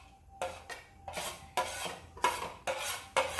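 Chopped onion, carrots and squash being mixed in a bowl for okoy, a Filipino fritter: rhythmic scraping and clinking strokes of a utensil against the bowl, about seven distinct pulls, close and clear.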